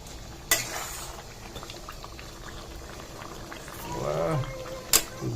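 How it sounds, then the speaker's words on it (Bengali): Milk heating in a pot and bubbling at a low, steady boil, with two sharp metallic clinks from a utensil against the pot. "এটা দুধ গরম করা হলো"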